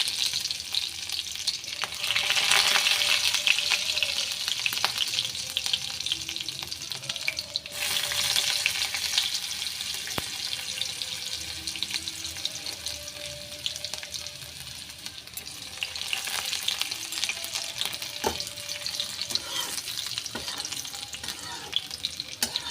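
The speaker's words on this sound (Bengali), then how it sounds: "আমি এরপরে দিয়ে দিচ্ছি রসুন কুচিটা রসুনটা একটু হালকা লালচে হবে" Chopped garlic sizzles and crackles steadily in hot oil for dhaba-style tarka dal, a close, continuous frying hiss with occasional stirring clatter and brief clinks.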